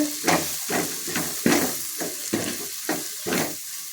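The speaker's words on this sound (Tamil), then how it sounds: "நல்லா வதக்கிக்கோங்க." Ingredients for a banana flower fish curry sizzle and hiss in a hot pan, with seven evenly spaced stirring scrapes over the frying, close and fairly loud.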